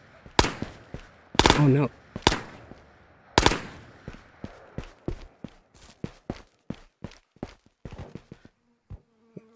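Gunfire in the multiplayer VR shooter Ghosts of Tabor: a string of sharp, loud shots in uneven rhythm, some close and heavy, later ones lighter and more distant, with a voice speaking briefly.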